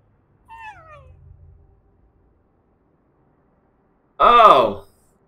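A cat in the video game Ghostwire: Tokyo gives a brief, soft meow, then a loud, close, drawn-out meow a few seconds later.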